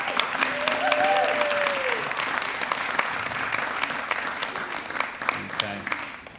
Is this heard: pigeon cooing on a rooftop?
no